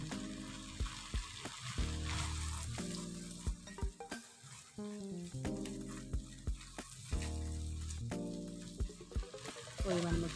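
Spices mixed with sour yogurt being stirred and fried in a pan, sizzling under a busy, rhythmic run of spatula scrapes and knocks, close and fairly loud, with a faint voice now and then.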